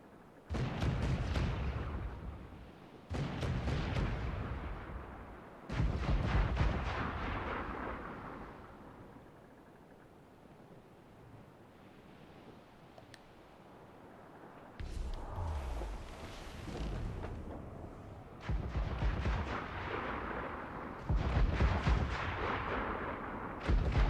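Heavy ship cannons boom in a naval battle in Assassin's Creed Black Flag, loud rolling volleys in several bursts with a quieter lull between them.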